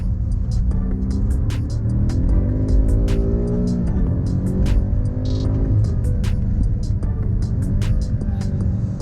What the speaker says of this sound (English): when you're on the power out of the corners, it does try to get a bit sideways, like that